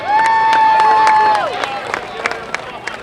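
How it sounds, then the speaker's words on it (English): Crowd at a festival outhouse race cheers and applauds, a loud burst of whooping and clapping that drops after about a second and a half into scattered claps and chatter. "let's give the champs from 2016 a big round of applause"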